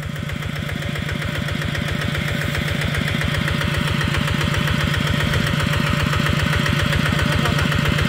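A Kubota RT155 tractor engine runs steadily with a loud, rapid diesel knock, churning in a muddy rice paddy where it is stuck, heard up close with no talk.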